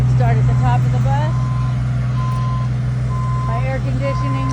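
A bus backing up gives off a steady series of evenly spaced reversing beeps over a loud low engine idle, close by and continuous, with faint voices in the background.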